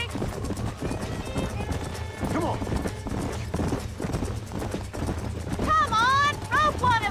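Horses in the Red Dead Redemption video game gallop with rapid clip-clop hoofbeats, and a loud whinny rings out near the end, all over a rumbling game soundscape.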